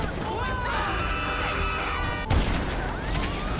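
Gunfire in GTA Online, a sharp burst of shots cutting through busy game noise and music, one strong hit near the end of the short stretch.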